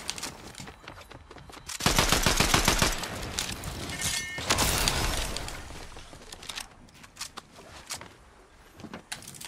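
In Fortnite, an automatic weapon lets loose a rapid, loud burst of gunfire, followed by scattered shots and clicks that fade into quieter game noise.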